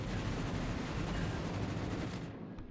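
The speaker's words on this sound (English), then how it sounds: "So that was some decent bomb hits." Bomb hits on a ship in World of Warships Legends, a dense rumbling barrage of explosions and crackling impacts, continuous and fairly loud before tapering off.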